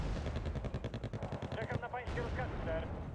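Rapid automatic fire from a unit in Wargame: Red Dragon, a quick rhythmic string of shots for about two seconds, then a person speaking over lingering battle noise.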